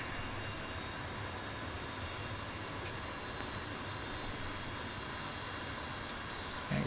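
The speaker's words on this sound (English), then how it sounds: "Get the air brake out." Steady jet engine roar fills the cockpit of a Leonardo M-346 trainer in Microsoft Flight Simulator as the air brake deploys, a constant broadband rush with no distinct change, loud and unbroken.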